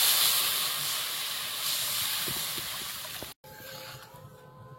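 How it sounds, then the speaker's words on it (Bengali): Curry gravy seasoned with salt, turmeric and sugar bubbles in a pan for a mango and prawn curry, making a continuous steamy hiss with soft low pops that briefly cuts out partway through. No one speaks. "ঝোলটা ফুটে গেছে"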